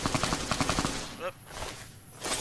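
Rapid gunfire bursts in Fallout New Vegas, a quick run of sharp shots followed by a lull and a few scattered impacts, fairly close and loud.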